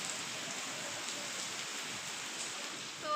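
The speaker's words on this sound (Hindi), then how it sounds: "देखिए कितनी ज़ोर से यहाँ पर बारिश हो रही है" Heavy rain pours down in a constant, even hiss of countless drops striking surfaces, heard fairly faintly and without pause.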